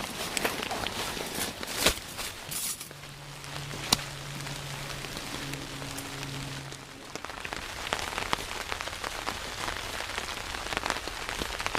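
Rain pattering steadily on a forest campsite, a dense close patter with scattered heavier drops and occasional footsteps or rustling, with a brief low hum in the middle.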